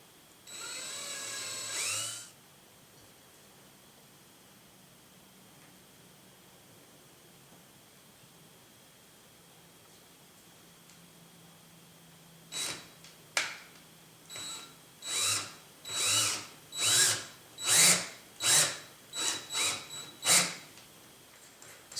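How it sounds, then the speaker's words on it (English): A power drill runs in a series of about ten short, loud whirring bursts while starting ball links onto a ball-joint build, preceded by one brief burst and a long quiet gap. "I'm going to use a drill to help me start these"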